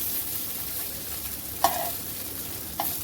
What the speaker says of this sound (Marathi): तसंच आपल्याला हे जराशी परतून घ्यायचे